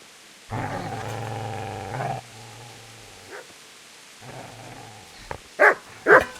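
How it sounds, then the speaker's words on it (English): A dog in the medieval video game Kingdom Come Deliverance growls in a long low rumble, pauses, then growls again before two sharp, loud barks close at hand, with no talk over it. "Get away, you mutt!"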